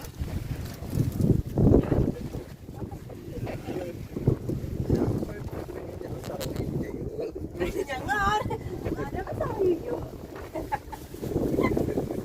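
A boat on the water at Kadalundi hums under gusty wind buffeting the microphone, with hens clucking and voices talking intermittently throughout.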